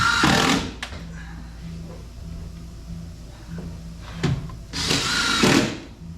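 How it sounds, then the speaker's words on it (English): Power drill driving screws up into a cradle support during a woodworking assembly, loud whirring bursts at the start and end with a faint, rhythmic tapping hum between them. "you can screw them underneath to the cradle in place, like so"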